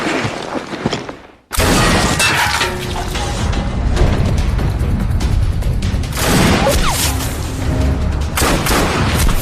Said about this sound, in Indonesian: mereka mencoba melepaskan beberapa tembakan ke arah parit tersebut